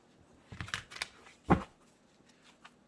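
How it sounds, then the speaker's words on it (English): A deck of tarot-style cards being shuffled by hand, a few close riffles and taps in short bursts with one louder flick in the middle, quiet between. "These cards are always resistant to shuffling for some reason."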